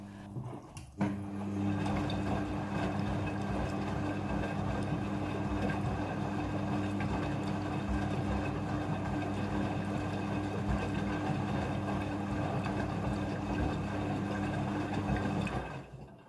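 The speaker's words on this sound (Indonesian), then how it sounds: "Setelah proses pemerasan selesai, masuk ke proses pembilasan air yang kedua." A front-loading washing machine in its second water rinse of towels: a steady mechanical hum with rushing water churns on continuously for the whole stretch, starting abruptly near the beginning and ending near the close.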